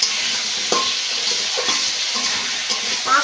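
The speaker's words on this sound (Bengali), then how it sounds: "মশলার সঙ্গে আলু আর কচুটা বেশ ভালো করে কষে নিতে হবে।" Cut taro and potato frying with spices in a pan, with a continuous close sizzle broken by repeated scraping stirs at irregular intervals.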